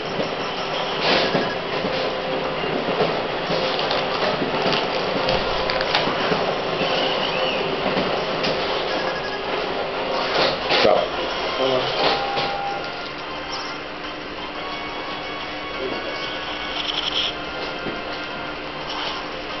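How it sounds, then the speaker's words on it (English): An office printer runs in a printer room with a busy mechanical clatter and rattling feed, fairly loud and continuous with brief louder surges, while a voice talks over it at times. "So I'm also in the printer room, which is why I might get an occasional interruption."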